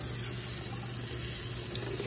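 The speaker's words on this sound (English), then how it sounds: "Let's get a little bit more cold water in there." Cold tap water running steadily at a kitchen sink while rice is rinsed, a faint continuous hiss and trickle with no voices.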